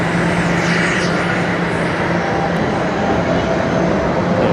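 A Toronto subway station fills with a loud, unbroken roar and rumble of a train, a dense steady wash of rail noise with no voices.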